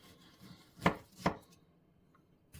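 Knife scoring the flesh of a whole fish on a board, two quick crisp cuts close together, quiet and close with no talking.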